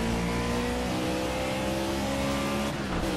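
A Ford Fusion stock car engine in a racing video game, played with a steering wheel on the Hockenheim National circuit, revving loudly and steadily with a dense continuous roar and faint tire noise.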